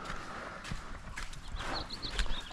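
Horse hooves clip-clop at a rescue barn, a steady run of close hoof strikes on the ground with no talking over them.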